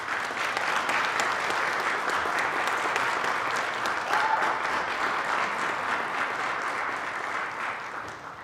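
An audience at the UTD Fall 2022 Care Awards ceremony gives sustained, even applause that fills the room throughout and eases off slightly at the end.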